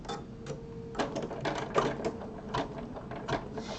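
An in-the-hoop embroidery machine sews a placement stitch for a mug rug, giving a close, quiet train of rapid mechanical needle clatter with brief irregular bursts and pauses.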